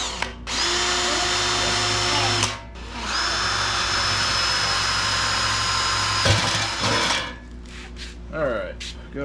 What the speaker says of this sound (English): I'm going to take an actual drill bit and drill first, and just drill a hole